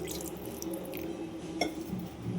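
Water pours steadily onto tamarind set to soak in a home kitchen, a soft, fairly quiet splashing with a brief drip-like accent partway through.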